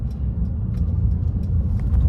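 Mercedes C300 with a four-cylinder engine cruising in comfort mode, giving a steady low road and engine rumble from inside the cabin, continuous and even throughout with no talk.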